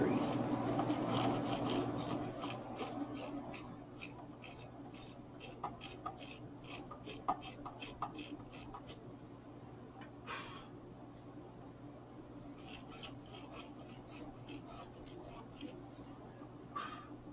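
Quiet, close-up scrubbing cleans the inside of a car battery's terminal clamps, a series of short rasping rubs in an uneven rhythm. No one speaks over it.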